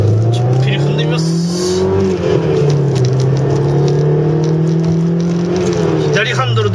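A left-hand-drive Alfa Romeo 155 Q4 with a manual gearbox, turbo and four-wheel drive, accelerating along a city street, a loud, close engine note rising and falling across gears as it pulls away.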